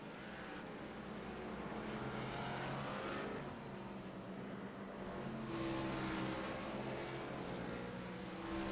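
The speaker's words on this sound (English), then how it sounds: "He's giving it a lot of gas there, trying to catch up to the pace car and then slowing down." Race car engines in the iRacing sim at New Hampshire Motor Speedway behind the pace car, a steady droning engine roar that swells and recedes as throttle rises and falls, fairly faint, with no speech.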